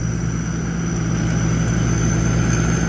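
A Hino G84 diesel engine runs steadily nearby, giving a constant low droning rumble with a faint high whine over it. The drone stays even throughout, with no revving and no voices.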